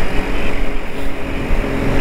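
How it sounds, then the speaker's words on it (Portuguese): A 200cc motorcycle engine drones loudly and steadily while riding, its buzzing roar mixed with rushing wind noise, close and continuous without speech. "Essa moto é 200 cilindrada, pessoal."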